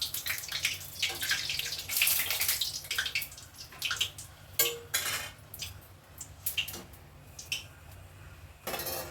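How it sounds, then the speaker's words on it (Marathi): Puri dough dropped into very hot oil in a home kitchen, a steady fizzing sizzle with sharp crackles and the clink of utensils against the pan, fairly quiet and close with no talking. "आता हे टाकते मी तेलामध्ये तेल खूप तापलं"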